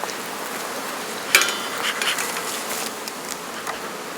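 Honeybees buzzing at a hive doing the recall call during a chestnut honey harvest, a steady dense hum with a brief louder buzz or knock near the start, moderately close, with no talking.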